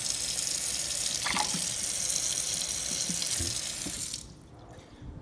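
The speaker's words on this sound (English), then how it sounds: "And so first we're gonna wet the chopstick down." Tap water running over a chopstick at a sink for a rock candy project: a steady, close hiss of flowing water that cuts off near the end, leaving a quiet pause with a small knock.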